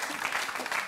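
Studio audience applause for a guest on a French TV talk show, a brief steady patter of clapping at moderate level with no voices on top.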